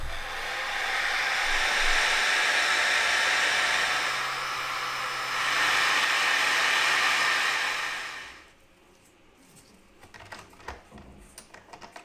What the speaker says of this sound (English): I place the plastic sleeve over the cell and heat it evenly so it shrinks